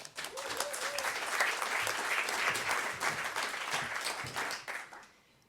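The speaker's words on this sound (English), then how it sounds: "I'm sure you'll give her a big round of applause" Audience applause at a public event on integrated education, a sustained round of clapping from a moderately distant crowd that holds steady for several seconds before fading out.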